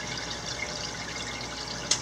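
Water trickles slowly into a shrimp tank during a water change, a soft steady running hiss with a single small drip landing distinctly near the end.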